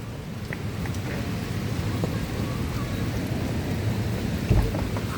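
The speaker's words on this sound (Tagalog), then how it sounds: "may malakas ang ulan" Heavy, steady rain pours down during a long afternoon-into-evening storm, with a deep thunder rumble swelling near the end over the constant hiss of the downpour.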